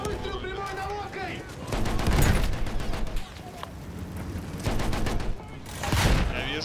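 Heavy gunfire and explosive blasts from tank combat in the video game Battlefield 1 come in several loud bursts, with players talking between the shots.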